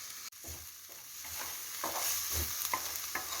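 Beaten egg stirred and scrambled in a hot pan on low flame for Thai-style noodles, with soft scraping strokes over a steady low sizzle, close and moderately loud, no talking.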